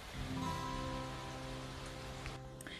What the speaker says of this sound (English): It's raining, so people have to stay inside their houses.